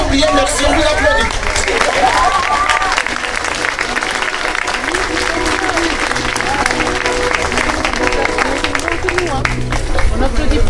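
Audience at a parish year-end celebration breaks into sustained, dense applause mixed with chatter and cheers, with people talking over the clapping throughout.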